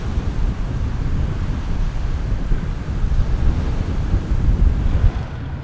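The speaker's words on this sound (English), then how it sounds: "Frankfort's public beach with its light beige soft sand on the shore of Lake Michigan" Waves wash continuously onto the soft sandy Lake Michigan shore at Frankfort's public beach, a steady low rumble of surf mixed with wind buffeting the microphone.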